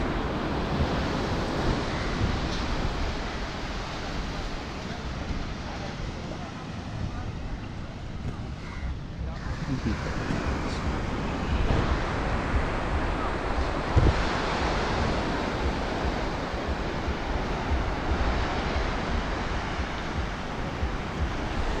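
Surf and wind at Mobor Beach in Goa, India, form a steady broad roar of breaking waves with gusting wind buffeting the microphone throughout.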